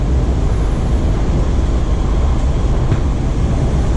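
A WMATA Kawasaki 7000-series metro car, number 7072, rumbles along the Orange Line near the West Falls Church yard, giving a loud, steady low roar of wheels and motors heard from inside the train.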